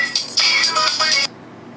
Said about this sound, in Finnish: Tästä vähän valitaan soittoääniä.